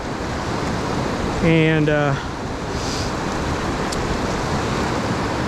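Youghiogheny River rapids at Ohiopyle rushing as a steady broadband roar, loud and continuous, with a single short spoken word partway through.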